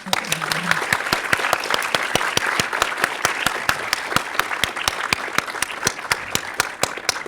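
An audience at a short film screening and awards night in a cinema keeps up steady applause, with individual sharp claps standing out in a fairly even rhythm and a brief voice near the start.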